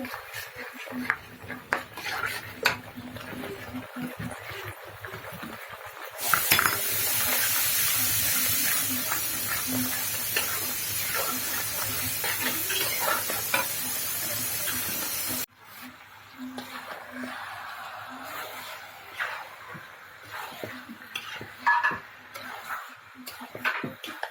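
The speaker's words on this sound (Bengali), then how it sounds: "এদিকে আমি মশলা কষাচ্ছি" Spice masala fries and is stirred in a pan for a home-cooked meat dish, with a loud hissing sizzle in the middle stretch, occasional utensil clinks, and a voice speaking at times.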